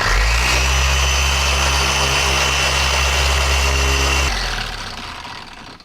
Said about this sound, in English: You simply turn the pad up towards yourself and grab one of our pad conditioning brush.